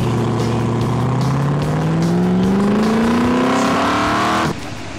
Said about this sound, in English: here we are with all the race cars back home, followed by the road going Toranas